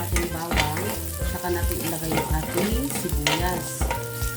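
Chopped garlic sizzles and browns in oil in a pan while a spoon stirs it, steady frying crackle with repeated scraping strokes, close and fairly loud, no talking.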